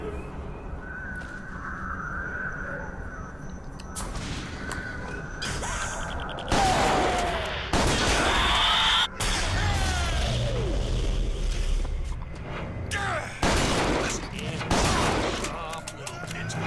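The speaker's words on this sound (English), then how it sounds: "shotgun works pretty well against these assholes" Shotgun blasts from Bioshock Infinite ring out during a fight, with several loud, heavy bursts spread unevenly across the stretch over a constant background of game noise and scattered crashes, and someone talks between the shots.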